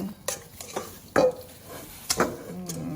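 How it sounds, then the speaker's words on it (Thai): A spoon scrapes and clinks against a bowl while a spicy Thai yum salad dressing with lime juice is mixed, giving several distinct close knocks and short scraping strokes. "คนให้เข้ากันเลย"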